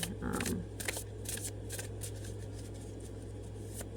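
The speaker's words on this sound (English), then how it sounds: "I'm going to go ahead and continue pulling some more cards" Tarot cards are shuffled close by in a quiet room, giving soft riffling bursts that come in quick clusters and then fade into faint handling.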